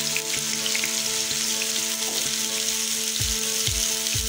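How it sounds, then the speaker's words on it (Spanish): Onion, garlic and pepper sizzle in a frying pan in a potato recipe, a loud close crackle with a steady hum underneath and a few stirring taps near the end, with no one talking. "y vamos a dejarlo sofreírlo."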